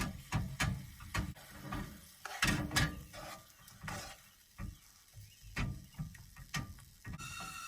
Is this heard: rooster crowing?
no